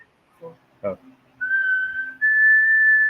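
A person blows a sustained, high, piercing whistle imitating a death whistle, rising into a long steady tone after a couple of short voiced sounds.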